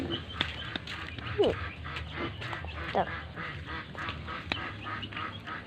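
A voice imitates a duck, giving several short nasal quacking calls spaced through the clip, moderately loud over a quiet background.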